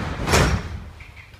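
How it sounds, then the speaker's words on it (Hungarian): Doors of a Budapest metro M3 train, an MMZ Ev3 car, slide shut with a loud rushing thud, followed by a few faint high tones as the noise settles. "Kérem, vigyázzanak, az ajtó záródnak."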